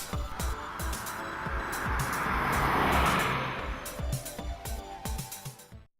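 A 2008 Chevrolet Corvette Z06 sweeps past in a single pass, its roar building to a peak around the middle and then fading away, with short clicking transients scattered before and after.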